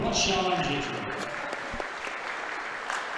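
A crowd at an ICC men's basketball game against Holmes applauds an ICC sophomore player, loud dense clapping at the start that eases into a steady, softer patter.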